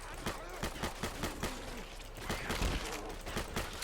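Gunfire in the zombie shooter Left 4 Dead 2 on a school-themed custom map, rapid bursts of close shots in a quick rhythm with voices talking over them.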